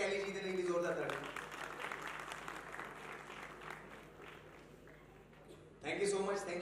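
Audience applause at a Punjabi music academy stage show, a sustained wash of clapping across the hall that swells and thins, with amplified speech over it at the start and end.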